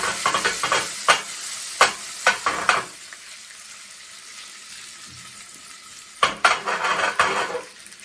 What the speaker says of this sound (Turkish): Yağımız erince süzdürmüş olduğumuz bulgur toplarımızı ilave ediyoruz ve üzerine kekik ve nane karışımı döküyoruz ve soteliyoruz